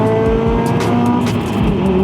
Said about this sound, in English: as I changed gears there, that was pretty incredible